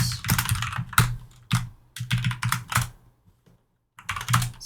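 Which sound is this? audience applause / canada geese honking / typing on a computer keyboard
typing on a computer keyboard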